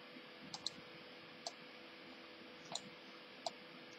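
A computer mouse clicks a few times during design work in Silhouette Studio, sharp faint single and double clicks spaced irregularly over a low, quiet background hum.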